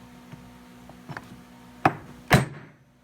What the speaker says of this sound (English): So now I'm going to use the dimpled end of my setter tool